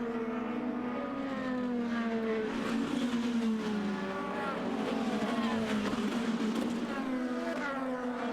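IndyCar race cars scream past at Barber Motorsports Park, engine notes rising and falling as several cars sweep through the corners, loud and continuous with no talk.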